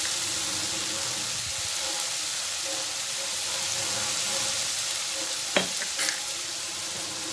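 Turmeric powder goes into a spice paste frying in a pan and is stirred in. A continuous loud sizzle and hiss carries on, with a couple of brief utensil knocks near the end.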